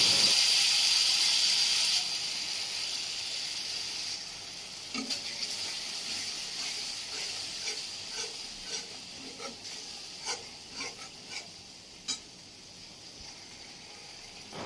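Sour yogurt and cashew paste hits hot oil while cooking Gondhoraj Bhetki, a loud broadband sizzle that drops after the first couple of seconds into a steadier fry with intermittent stirring scrapes, close and alone.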